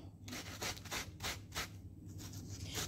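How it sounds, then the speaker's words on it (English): Green banana is grated for porridge, rubbed against a grater in a run of quick, rhythmic scraping strokes, close and soft with no talking. "now I have finished gratering the banana"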